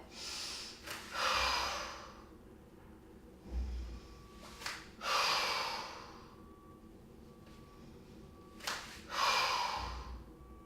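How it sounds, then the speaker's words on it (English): Deep breaths drawn in and pushed out during a beginner floor exercise, three slow cycles of long airy inhales and exhales, close and clear with quiet pauses between. "Inhale, exhale, lengthen."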